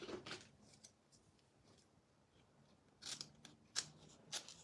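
Scissors snipping through a paper transfer sheet, a few quiet crisp cuts scattered over a faint background, with a cluster of sharper snips near the end.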